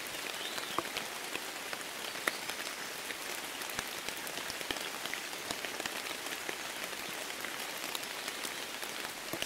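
Steady rain falling outside, a dense even hiss with scattered distinct drops pattering on surfaces, continuous and moderately quiet with no voices.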